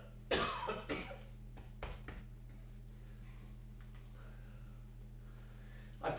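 A few coughs during a quiet indoor tai chi session, two or three short rough bursts close by over a steady low hum, followed by near silence.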